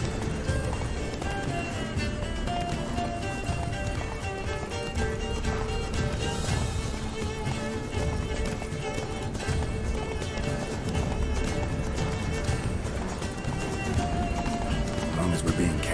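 Roach, the horse in The Witcher 3, galloping at a steady run with rhythmic hoofbeats set in a dense, continuous game soundscape of music and ambience, with voices talking over it.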